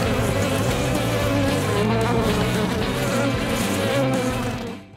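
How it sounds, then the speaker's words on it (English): Close, loud buzzing of bees, a continuous droning hum with wings beating steadily, fading slightly at the very end. "Now let's watch some bees mess up some spiders."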